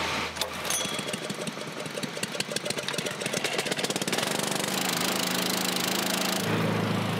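A pump engine pulls over and catches, its rapid mechanical knocking settling into a steady, close running drone that shifts pitch near the end.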